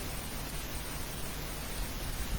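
A church congregation at a Sunday service taps fingers together to imitate rain, producing a dense, loud, unbroken hiss of many overlapping taps that sounds like a steady downpour.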